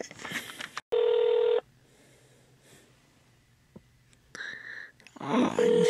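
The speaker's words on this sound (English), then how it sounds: "Please leave a message after the beep." An answering machine beep rings out as a loud, steady electronic tone lasting under a second. It comes between stretches of breathy, snorting mouth noises, and further tone bursts follow near the end.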